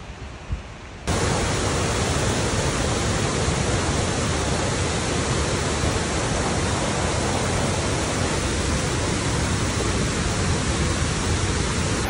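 A dense, constant roar of a waterfall in the Catskills cuts in after a second of quieter ambience and holds steady, loud and close throughout.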